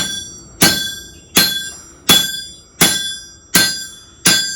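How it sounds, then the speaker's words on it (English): Blacksmith strikes hot metal on an anvil in a historic ranch blacksmith shop, six loud ringing clangs at a steady, unhurried pace, each with a bright metallic ring that decays before the next blow. "Again, you hammer on it."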